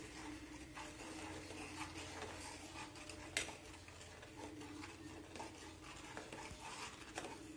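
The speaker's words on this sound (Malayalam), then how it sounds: "ഈ തുടരെ ഇളക്കി കൊടുക്കണം കേട്ടോ" A spoon stirs milk and custard powder in a pot, making quiet, continuous scraping and soft swishing with occasional light clinks against the metal.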